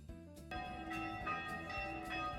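Church bells ringing in a piazza in Florence, Italy, with a rich, sustained metallic tone, several overlapping strikes blending together at moderate distance.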